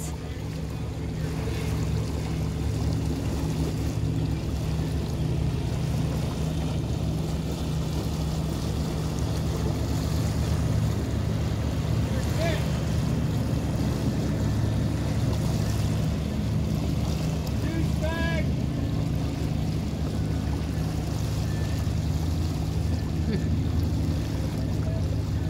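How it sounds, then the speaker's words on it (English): A motorboat engine drones steadily over wind and lapping water near Gulf Shores, Alabama, holding a constant hum for the whole stretch, with faint voices now and then. "We have a boat that's going to go in between us."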